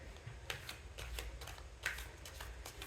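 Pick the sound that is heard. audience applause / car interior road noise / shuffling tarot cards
shuffling tarot cards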